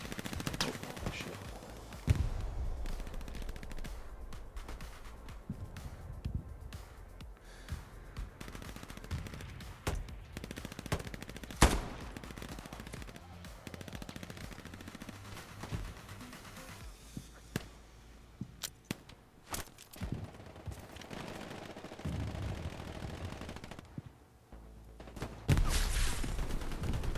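Machine gun fire and scattered gunshots from the video game Hell Let Loose crackle through a dense, noisy battlefield mix, with bursts and single shots near and far over a constant rumble of war sounds.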